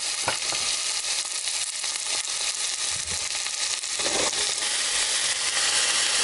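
Onions and green chilies fry in a pan with a loud, dense, continuous sizzle and crackle, thickened by a few rustling stirs, and no talking.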